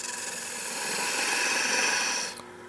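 A turning tool shears waste wood from a goblet spinning on a lathe, giving a continuous close whirring rasp that swells slightly, then cuts off abruptly as the tool lifts away, leaving a quieter hum.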